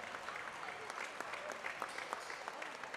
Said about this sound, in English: Nice round of applause from both of those guys